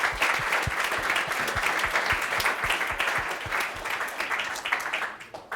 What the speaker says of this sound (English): maybe first a big applause for your talk.